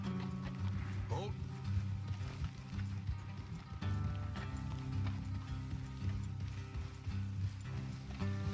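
Horses gallop with steady clip-clop hoofbeats in Red Dead Redemption 2, layered under a dense game soundtrack and ambience with no speech.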